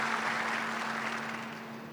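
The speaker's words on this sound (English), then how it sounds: "You can clap for that." Audience applause at an airport completion announcement in Rochester, New York: a steady, dense wash of many hands clapping, moderately loud and heard alone, tapering slightly over two seconds.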